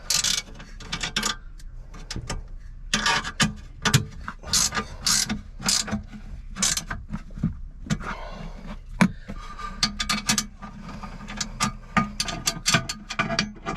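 A ratchet wrench tightens the bolts holding a Lockerdown safe inside a 2015 Ford F250, giving quick bursts of close, sharp clicking in an uneven rhythm with short pauses between strokes.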